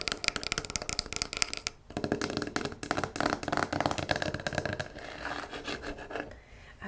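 Fingers scratch and tap quickly on carved wooden items from Lebanon, producing dense, rapid, close-up rasping strokes with brief pauses between flurries.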